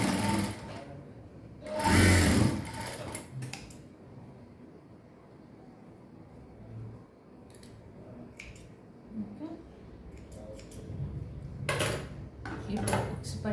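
A sewing machine stitching a child's lehenga runs in short bursts, a loud whirring burst early and another near the end, with quieter mechanical clicks and handling sounds between.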